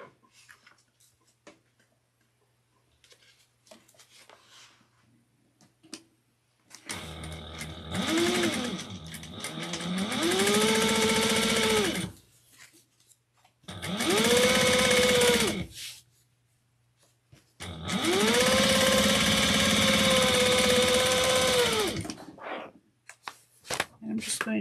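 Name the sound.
sewing machine stitching a seam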